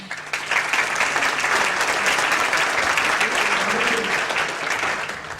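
Sustained audience applause fills a hall at the American Folklore Society annual meeting opening ceremonies, steady and dense clapping from a large crowd throughout.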